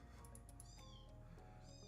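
A cat meows several times in a row, soft and fairly distant, over a steady low hum in a room where trading cards are being opened.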